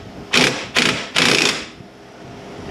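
A removal tool with a 22mm socket pushes the wheel axle out of the knuckle on a 2015 Jeep Patriot rear wheel bearing job, giving three quick, loud mechanical bursts about half a second apart, then quiet.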